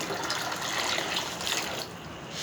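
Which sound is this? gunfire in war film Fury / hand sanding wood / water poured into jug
water poured into jug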